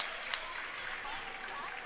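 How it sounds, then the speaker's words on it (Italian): Crowd applause at a Serie A2 roller hockey game between Seregno Hockey and Tierre Chimica Montebello, a steady distant wash of clapping from the stands filling the whole stretch. "per la squadra di Giaroli, che adesso si prende il giusto tributo di applausi"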